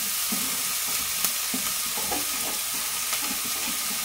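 Chopped banana flower goes into hot spice paste in a pan, giving a steady close sizzle with scraping and clinking as it is stirred, no talking.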